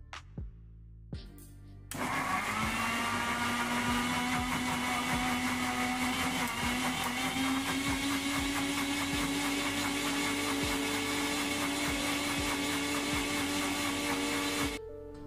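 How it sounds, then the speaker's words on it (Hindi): A blender whirs steadily for about thirteen seconds, blending curd and water into a weight-loss smoothie, starting after a few light clicks and running loud and continuous until it cuts off. "इसका कैप लगा के अब इसको हम करेंगे ब्लेंड"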